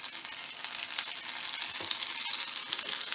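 Slice of French toast sizzling in a buttered pan, a steady bright hiss of frying butter that stays even and close throughout, with no voices.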